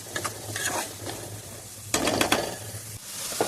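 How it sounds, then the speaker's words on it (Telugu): Onions and green chillies frying in hot oil in a pan while cooking goat tripe curry, with a soft steady sizzle, light stirring and scraping clatter, and a brief louder burst of crackle midway. "ఇప్పుడు ఇందులోకి ఉల్లిపాయ పచ్చిమిరపకాయలను యాడ్ చేసుకోవాలి. ఇది కొంచెం గోల్డెన్ బ్రౌనిష్ కలర్ వచ్చే వరకు వేయించుకున్నాం."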